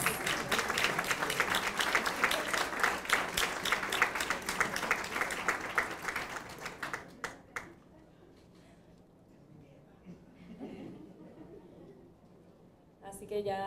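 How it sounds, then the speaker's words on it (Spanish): An audience at a hospital celebration of a liver transplant program's tenth anniversary applauds patients loudly for about seven seconds, then the clapping fades into quiet murmuring and a few scattered claps. "Un aplauso a los pacientes."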